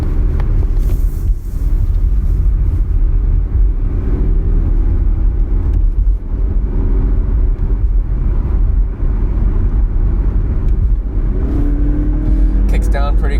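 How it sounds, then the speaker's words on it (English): A 2021 Mazda CX-30 2.5 Turbo with 250 horsepower accelerates up an interstate on-ramp, its engine rumble blending with loud, constant road and wind roar heard from inside the cabin. "let's see how this 250 horsepower Mazda feels on an on-ramp"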